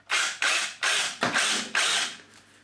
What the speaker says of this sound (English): I'm actually going to start it without the hammer action on